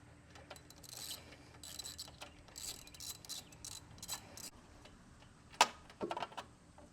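A ratchet with a 5/8 socket works a spark plug loose on a John Deere D160 lawn tractor, giving close, quiet clicking bursts in short runs with pauses between, then a sharper metallic clank near the end.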